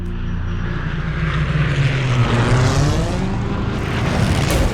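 A wartime fighter plane's engine drones loudly at full power as it climbs above 8,000 metres with a fuel supply problem, a close, sustained roar whose pitch slowly shifts and wavers.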